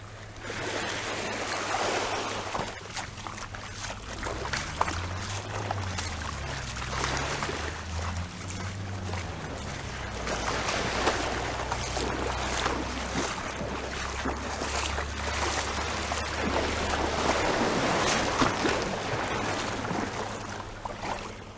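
Calm sea water laps softly at the shore of Smitons Bay in a steady, gentle wash, with a low motor drone from a nearby boat and light wind, no talk.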